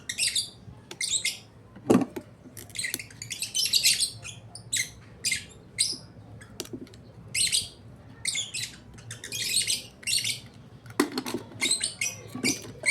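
Small pet birds chirp and twitter indoors in quick, high bursts, several calls overlapping at close range, with occasional soft clicks and rustles between them.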